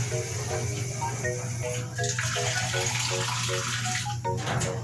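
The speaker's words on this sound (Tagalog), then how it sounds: "Lagyan ng tubig natin mga" Water is poured into a cooking pot, a continuous splashing rush with faint tonal clinks, heard close in a kitchen.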